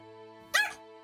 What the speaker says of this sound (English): Yes, I know you like to both bark and cuddle, ChiChi.